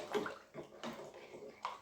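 Water sloshes and swirls as olive oil is stirred into it, a few soft splashy pulses close by, no talking.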